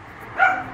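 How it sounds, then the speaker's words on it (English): A dog named Buddy lets out one short, sharp bark at close range in a home, standing out briefly against a quiet room hum. "Buddy, stop barking"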